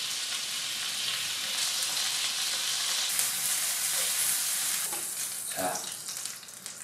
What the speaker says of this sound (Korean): 이게 생각했던 것보다 고기가 좀 더 두꺼워서 조금 더 과하다 싶을 정도로 익혀주도록 하겠습니다.